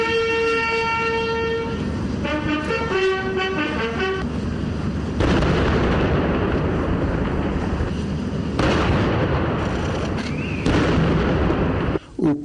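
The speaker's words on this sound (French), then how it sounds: "suivie de 16 coups de canon." Heavy booming shots of a 16-gun cannon salute ring out several seconds apart at a royal ceremony, following brass band music over a constant outdoor crowd din.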